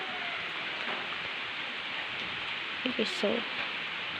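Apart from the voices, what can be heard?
rain falling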